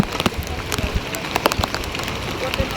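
Heavy rain along the Yamunotri pilgrimage trail, a dense close patter of drops on surfaces with sharp spatters and rustle, under occasional movement noise.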